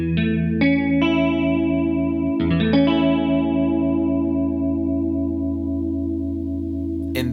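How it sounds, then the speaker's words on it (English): Electric guitar through a Keeley Seafoam Plus chorus pedal in its Seafoam mode, giving a rich, lush analog-style chorus; several plucked chords and notes ring out and sustain with a shimmering, wavering tone, loud and alone. "If you're after your standard rich, lush chorus, that's the Seafoam mode with the switch in the middle here,"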